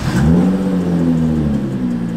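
A human voice imitates an Audi R8 engine revving, a loud close rising and falling vroom held for about two seconds with no other sound around it.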